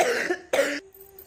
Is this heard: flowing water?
no